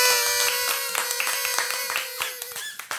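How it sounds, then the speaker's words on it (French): Audience clapping for a guest seated around a table on a New Year television show, steady dense applause with sharp hand claps throughout, loud and close, tapering slightly near the end. "nous allons lui faire un tonnerre d'applaudissements"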